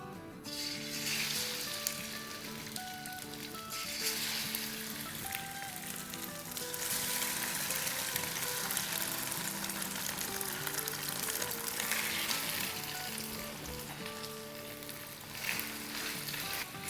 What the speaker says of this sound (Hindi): तो यहाँ देखें हमारा तेल गरम हो गया है। तो अब हम चिकन डाल देंगे।